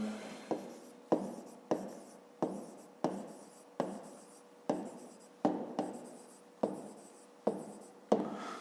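A pen scratches across paper while someone works a math exercise. About a dozen evenly spaced strokes, each opening with a sharp tap and trailing off in a scratchy scrape, sound close and clear in a quiet room.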